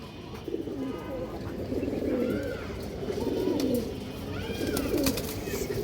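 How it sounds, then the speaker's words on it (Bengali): Several old-breed fancy pigeons, including the toota type, coo close by in low, rolling calls repeated throughout, with faint chirps in the background. "এই যে দেখেন একদম ফুল তোতা সাহেবের কৌতার এবং আপনারা চোখটা দেখেন"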